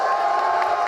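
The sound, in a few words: crowd cheering at Yu-Gi-Oh championship final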